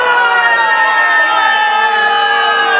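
An angry crowd outside a court, shouting in protest at a verdict in the Loving v. Virginia case, a loud, continuous mass of voices with no pauses.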